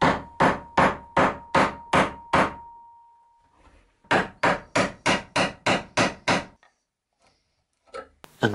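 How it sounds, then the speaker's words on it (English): A mortise chisel is struck with sharp, evenly spaced knocks as tenon outlines are cut into wooden beams, with a first run of about eight hits, a short pause, then another run of eight, loud and close. "follow those lines with a mortise chisel"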